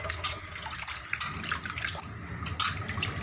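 Fish being washed by hand in water, with close sloshing, splashing and trickling in an uneven rhythm over a few seconds.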